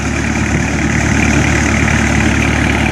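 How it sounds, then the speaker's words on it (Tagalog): A 4DR5 engine fitted to a small boat runs steadily, a loud close low-pitched throbbing with constant vibration and no change in pace. "Nilagyan ng 4DR5 na makina."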